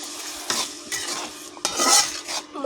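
A pan of spices with a little water, for a mutton fat and potato dish, stirred briskly, with several scraping strokes over a continuous sizzle, close and loud.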